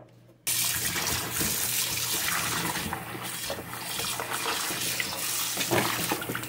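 Raw chicken for afritada is washed under a running kitchen tap; water pours and splashes steadily and close by for several seconds, with no speech.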